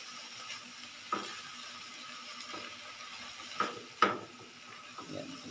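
Cabbage sizzles quietly in a pan while a utensil scrapes and stirs, with a few sharper clacks against the metal over a faint, steady frying hiss.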